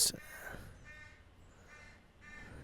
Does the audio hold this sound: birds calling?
yes